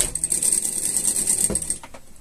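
A sewing machine runs steadily stitching fabric close alongside a piping cord, giving a fast, even mechanical whir that stops abruptly near the end, with no talking over it.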